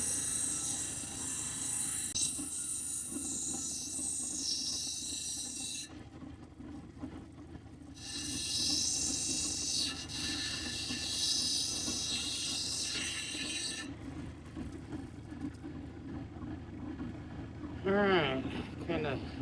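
An opal is shaped on a cutting wheel, which gives a steady grinding whir and a high hiss that drops out and returns as the stone is lifted and pressed back, with a voice speaking over it.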